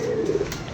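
A pigeon gives a single short, soft coo, close by and on its own.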